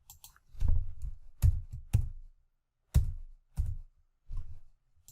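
Keys clacking on a computer keyboard in short bursts of a few quick strokes separated by pauses, close and fairly quiet, while a programmable logic controller program is being edited.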